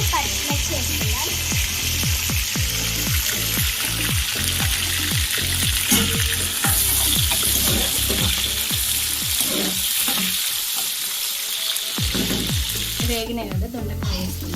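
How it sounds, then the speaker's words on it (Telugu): Onions and green chillies fry in hot oil with a tempering for a Telangana-style ivy gourd curry, giving a loud, continuous sizzle broken by repeated scraping strokes of a stirring spoon. "ఆయిల్ పోసుకుందాం, పోపు వేసుకుందాం, ఆనియన్స్, పచ్చిమిర్చి వేసుకుందాం."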